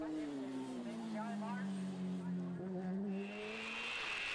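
Racing motorbike at the Cookstown 100 road race, a 600 ridden by William Dunlop, screams at high revs close by, its engine note falling and rising through gear changes while a commentator talks over it.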